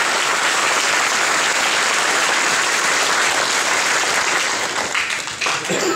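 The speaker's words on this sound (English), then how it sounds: "Let's give a big round of applause." A church congregation at a priest's 25th ordination anniversary celebration breaks into a big round of applause, a dense, steady wash of many hands clapping that holds loud for about six seconds before thinning slightly near the end.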